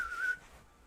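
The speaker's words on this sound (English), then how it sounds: "Did we get a good whistle there, Jen?" A short, clear whistle that holds one high note for about a third of a second and then fades into quiet room tone.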